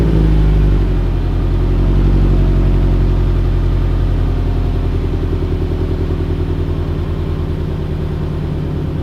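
Catless headers on a Subaru BRZ / Toyota FRS flat-four, idling loud and close. After an early high-idle roar it settles into a lower, steady, throbbing burble with a rapid pulsing exhaust rhythm.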